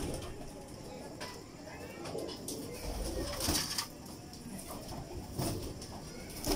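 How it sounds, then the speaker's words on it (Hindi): A Teddy pigeon in a home loft coos softly in low, muffled calls, with brief bursts of wing noise and faint background clatter. "ये जी टैडी कबूतर है, ये हमारे घर का।"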